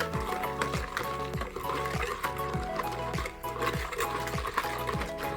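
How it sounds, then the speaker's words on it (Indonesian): Pandan chiffon cake batter stirred in a bowl, with steady rhythmic strokes about every half second making soft wet scraping swishes, close and fairly quiet. "Kita aduk kembali."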